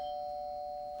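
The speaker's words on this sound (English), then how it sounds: "Didn't I hear the front doorbell go just now?" A front doorbell rings in a home, a steady sustained chime tone held through the whole short moment, clear and fairly quiet with no talk over it.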